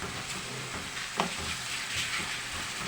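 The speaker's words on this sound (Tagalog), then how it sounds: "habang naantay natin lumambot ang kamatis, ay pisa-pisain na natin guys" Tomatoes sizzle in a hot pan while being mashed down as they sauté, a steady frying hiss with a brief scrape partway through.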